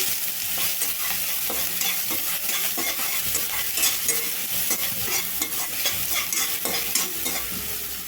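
Chopped onions and green chilies fry in a pan, giving off a loud, dense and steady sizzle with faint stirring, unbroken for about eight seconds.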